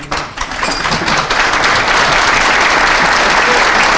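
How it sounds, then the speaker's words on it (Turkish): A storm of applause and tapping from football supporters at a Gençlerbirliği fan gathering, dense and loud, building up and holding steady throughout without any talk. "İlk önce şöyle bir dakika, iki dakika bir alkış tufanı yapalım."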